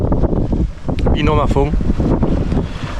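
Wind rushing across a sailboat under full genoa and mainsail at around 11 to 12 knots close-hauled toward Ajaccio, loud buffeting gusts on the microphone with someone speaking briefly over the roar.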